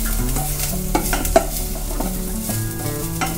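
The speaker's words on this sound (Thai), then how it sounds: "เราไม่จำเป็นต้องผัดให้กระเทียมเขากรอบเหลืองกรอบนะคะเอาแค่พอให้เขามีกลิ่นหอมก็พอค่ะ" Garlic stir-fries in a pan for a Thai holy basil sauce. A continuous close sizzle runs under repeated spatula scrapes and stirring knocks, with no talking.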